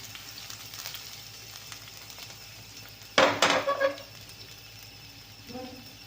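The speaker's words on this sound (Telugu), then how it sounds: "ఇప్పుడు కొంచెం కచ్చాపచ్చాగా దంచుకున్న వెల్లుల్లిపాయలన్నీ ఇవన్నీ వేసి బాగా ఫ్రై చేసుకోండి." Coarsely crushed garlic hits a pan of hot oil with a sudden loud sizzling burst midway that fades over about a second. Quieter kitchen background and a faint voice come before it, and a softer clatter follows.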